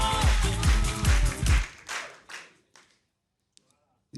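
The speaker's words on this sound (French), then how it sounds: "On applaudit encore pour Brejean, s'il vous plaît." A stand-up comedy festival audience claps and cheers for a comedian, dense applause loud at first, then thinning and fading out into a few scattered claps and silence.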